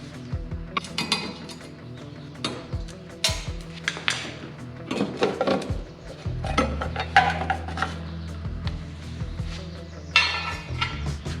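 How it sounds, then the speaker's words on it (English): A Phillips screwdriver works loose the screws on a Mustang tail light, giving close metallic clinks, scrapes and rubbing in an uneven run of short bursts, with no talking. "just use a Phillips screwdriver to take this off"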